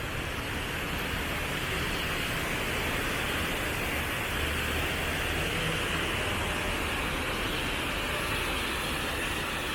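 Entryway water fountains at Disney's Polynesian Village resort splash and rush in a dense, continuous wash of falling water, steady and fairly close with no voices.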